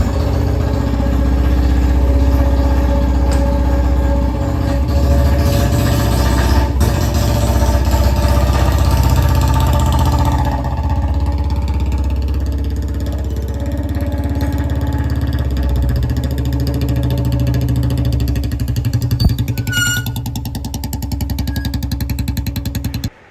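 A motorcycle kick-started on the first kick settles into a steady, loud, close idle, its even mechanical chug running for over twenty seconds before cutting off abruptly.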